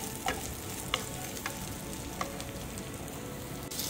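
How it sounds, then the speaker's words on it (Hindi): Capsicum and onion fry in a kadhai with a steady, dense sizzle, broken by a few faint clinks of stirring. "मुझे शिमला मिर्ची आ प्याज को भाजी नेबी"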